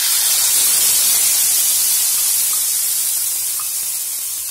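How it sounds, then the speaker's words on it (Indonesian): Ground spice paste for a vegan soto sautéing in hot oil gives off a loud, steady hiss and sizzle heard alone, easing slightly toward the end. "Tumis dulu sampai harum."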